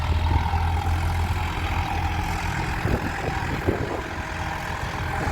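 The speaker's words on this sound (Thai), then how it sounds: "ดูรถไถเล็กขึ้นทุกคนนะ" A small farm tractor engine runs steadily nearby during railway bridge construction, a constant low rumbling drone throughout, with no voices.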